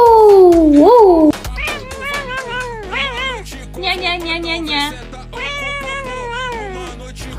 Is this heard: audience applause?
no